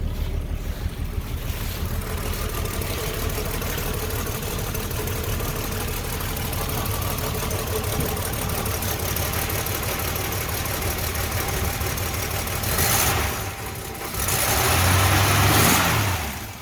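A 1966 Dodge Dart engine idles steadily with a low, even rumble for a long stretch, then swells briefly as it revs near the end.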